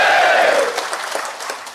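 Audience at a Marathi community felicitation event clapping in response to a call for applause, a loud dense wash of clapping that gradually thins and fades over under two seconds.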